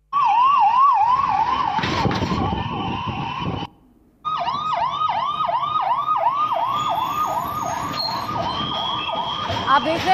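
Wailing emergency sirens from fire brigade vehicles and ambulances at a plane crash rescue scene in Ahmedabad, loud and continuous with rising and falling cycles, briefly cut off midway, with overlapping siren tones and traffic underneath.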